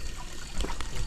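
Shallow river water trickling and babbling close by, a soft continuous splashing wash with small gurgles, steady and unaccompanied by talk.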